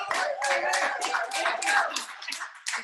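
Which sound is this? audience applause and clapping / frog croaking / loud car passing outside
audience applause and clapping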